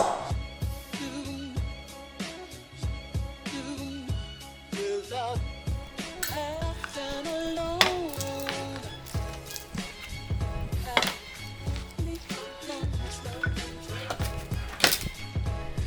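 Cabbage chopped on a board for sauerkraut, irregular sharp knife strikes and crunches in quick bursts, close and fairly loud, with background music and voices mixed underneath.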